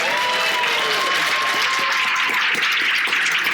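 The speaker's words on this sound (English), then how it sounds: "And a big round of applause for our first question." A live podcast audience at CAPCon 2026 gives a loud, close round of applause in a dense, sustained wash of clapping, with a few cheers mixed in.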